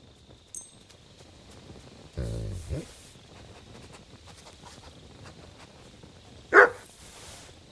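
Dog barking in the medieval world of Kingdom Come Deliverance 2, with a couple of brief scattered barks, one sharp bark near the end and a faint rustle, over quiet insect-filled night ambience.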